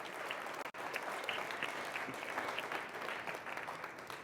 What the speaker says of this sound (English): Can we give them all one round of applause?